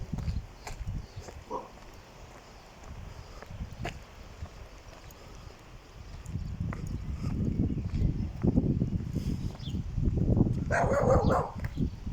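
Dogs bark several times along a town street, the sharp yips and barks coming at a moderate distance over footsteps and outdoor background noise, louder toward the end.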